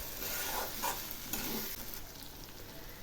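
Cabbage stir-fried in a kadai with a cashew-and-raisin spice paste gives a close, steady sizzle, with scraping and stirring sounds rising and falling over it.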